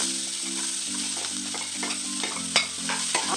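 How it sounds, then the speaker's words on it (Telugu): Sliced onions fry in hot oil for a salted fish curry, a steady loud sizzle with a few stirring scrapes and clinks, close up, with a low hum underneath and no talking. "ఉల్లిపాయలు కొంచెం రంగు మారినంత వరకు వేద్దాం"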